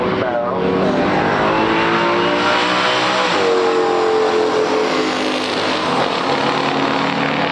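A 1969 COPO Camaro ZL1 and a 1971 Duster 340 in a pure stock drag race, loud sustained V8 roar with rising engine pitch as the cars accelerate down the strip, steady and dense throughout.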